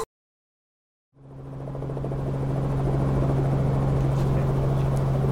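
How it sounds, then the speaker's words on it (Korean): A tour helicopter in Detroit starts up from silence, and its engine and rotor noise climbs quickly into a loud, steady, close drone with a deep rhythmic thrum as it prepares to lift off. "자, 이제 헬기가 천천히 뜨고 있어요."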